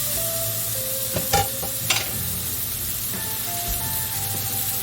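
Tuna fish steak sizzles and fries in a pot, with a steady hiss running throughout and a couple of brief stirring or spattering bursts partway through.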